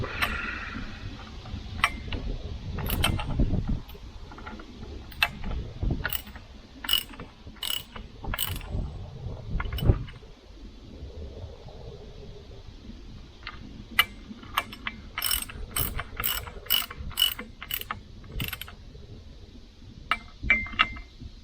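Ratchet tightening bolts on a motor grader lift cylinder, with rapid runs of crisp metallic clicks and ticks coming in spurts over about twenty seconds, close and distinct against a quiet shop background.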